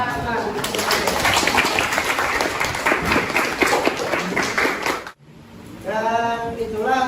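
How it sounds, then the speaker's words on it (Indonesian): A classroom of students applauds after a group presentation at a school teaching-practice session, with dense, lively clapping for about five seconds that stops abruptly before a teacher starts talking. "Oke, kita beri tepuk tangan."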